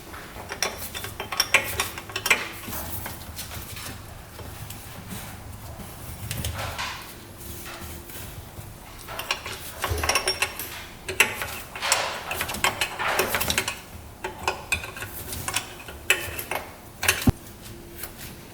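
A wrench works the nuts loose on the throttle of an old jet ski that had sat unused for twenty years, making faint intermittent metallic clicks, scrapes and clinks close by.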